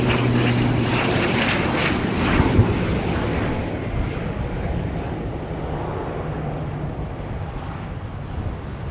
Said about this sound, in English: we've got an incoming flight, so we'll go and grab that